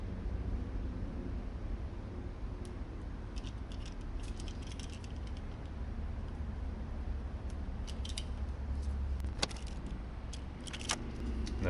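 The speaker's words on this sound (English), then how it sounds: "before I do fold it over, I'm just going to trim" Scissors trim the ends of an ADR Eaglet FPV fixed-wing airframe, with light intermittent snips and clicks over a constant soft background hiss.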